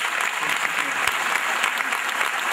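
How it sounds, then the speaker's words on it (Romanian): Audience applause for an orchestra from Turkey at a Dobrogea Day celebration, a dense, steady patter of many hands clapping, close and continuous, with a few louder single claps standing out. "aplauze pentru orchestra din Turcia"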